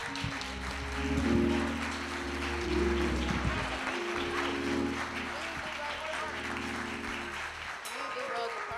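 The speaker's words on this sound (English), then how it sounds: "Let's give them a hand" Congregation applause for young people at a church Black History program, a soft, sustained patter of clapping under a low hum and voices speaking.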